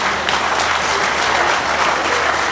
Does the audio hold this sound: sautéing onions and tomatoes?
no